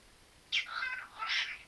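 A pet parrot gives two short, shrill chirping calls, close and clear against a quiet room.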